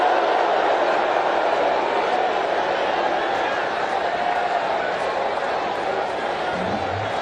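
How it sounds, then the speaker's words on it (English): A vocal stadium crowd roars steadily through a tight finish of an India vs Pakistan cricket match in the Asia Cup final, a dense unbroken wash of cheering and noise with no clear peaks. "Outstanding crowd here at this stadium today. And they're very vocal right now."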